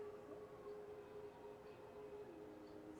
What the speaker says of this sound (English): There's sirens going out right now.